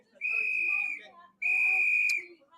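Two long, steady, shrill blasts of a whistle, loud and close, with a brief gap between them and a few faint background noises.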